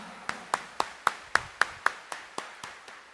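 About a dozen evenly spaced claps ring out one after another from the congregation at a morning Mass in Quiapo Church, crisp and fairly quiet, with no talking.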